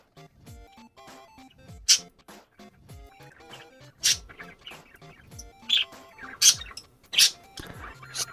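Small birds chirp and tweet in quick, scattered bursts, several sharp calls standing out over a busy background chatter of other sounds.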